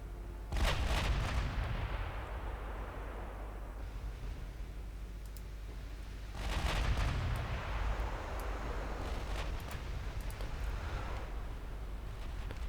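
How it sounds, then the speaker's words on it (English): Battleship main guns fire high-explosive shells in the naval strategy game Ultimate Admiral Dreadnoughts, two heavy booming salvos several seconds apart, each rolling out into a long rumbling tail. "That's why my ships are firing HE, because they can just not go through."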